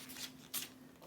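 Paper cutting practice sheets for homeschool are handled, giving two soft, brief rustles of paper, quiet and close, with no talk.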